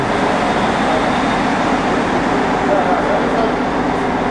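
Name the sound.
train station ambience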